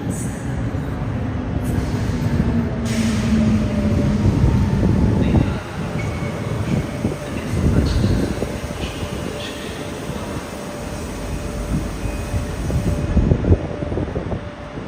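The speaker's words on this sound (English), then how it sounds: "And there's a train approaching." A train rolls in toward a riverside station in Lisbon, a low steady rumble with a rising screech and clatter of wheels building over several seconds, heard from the platform with wind buffeting the microphone.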